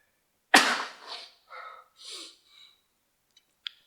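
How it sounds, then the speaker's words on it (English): A single loud, abrupt sneeze up close, followed by a few quieter breaths and sniffs in an otherwise silent room. "I have to sneeze."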